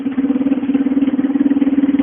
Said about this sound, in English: is the orange bike's motor in the blue bike. You can see it's running.